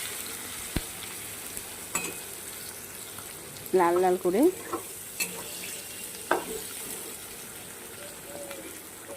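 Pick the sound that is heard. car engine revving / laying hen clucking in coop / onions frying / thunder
onions frying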